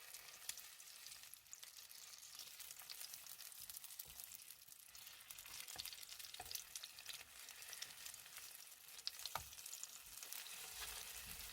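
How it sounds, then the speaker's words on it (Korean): Napa cabbage rolls wrapped around kimchi dumplings and dipped in beaten egg fry in a pan, giving a steady, dense crackling sizzle with occasional pops. "준비하신 배추말이를 계란물에 한번 푹 담갔다가 후라이팬에서 노릇노릇하게 구워주세요"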